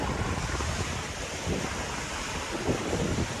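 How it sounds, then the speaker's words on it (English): Ocean waves wash onto hard packed sand on Barrio Barretto Beach in Subic, a steady, loud roar of surf with gusting wind noise across the microphone, no voices. "the water and the waves are up here on the hard packed sand"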